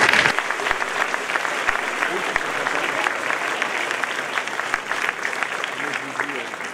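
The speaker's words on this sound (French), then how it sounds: "Il y a une tentative d'applaudissement." A crowd at a political campaign rally in Lyon breaks into applause, a steady wash of clapping that holds for several seconds at moderate volume.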